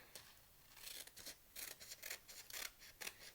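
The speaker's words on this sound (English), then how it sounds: "We're going to cut this off." Scissors snip through folded paper while a paper snowflake is trimmed, giving a run of short, crisp cuts in a quick irregular rhythm, close and fairly quiet.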